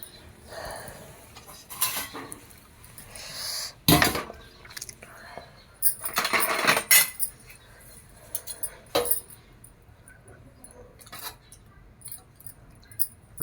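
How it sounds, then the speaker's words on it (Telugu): A spoon adds two spoonfuls of yogurt into a cooking pot of spicy gravy, with scattered metallic clinks and scrapes of cutlery against the pot, several sharper knocks spread out over faint background. "ఒక 2 స్పూన్ల పెరుగు వేస్తున్నా ఫ్రెండ్స్."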